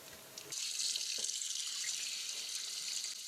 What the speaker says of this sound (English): And wash to clean the fish.